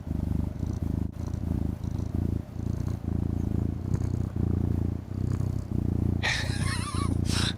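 A cat's purr plays from a device, a loud, steady rumbling purr in rhythmic in-and-out pulses, with a brief higher chirpy sound near the end.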